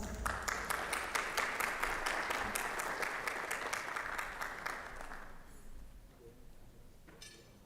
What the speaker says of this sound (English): Let's give her a warm welcome of applause.